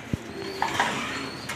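A male grizzle pigeon gives a soft, brief coo, faint and close, against a quiet background.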